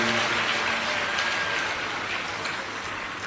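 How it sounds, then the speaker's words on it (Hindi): Steady crowd applause at a Shiv Mahapuran religious discourse gathering, a continuous dense wash of clapping welcoming the host family, fairly distant and without talk. "एक बार यजमान परिवार के लिए जोरदार ताली बजाकर स्वागत, वंदन, अभिनंदन"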